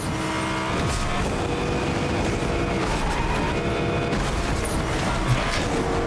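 Car in Fortnite racing along, its engine droning steadily and loudly with rising pitch over a rough road rumble, and a faint thud near the end.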